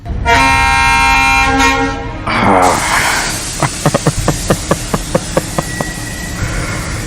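A passenger train's loud, sustained horn sounds for about two seconds in foggy conditions before departure, followed by a steady run of rhythmic clacks as the train begins to move.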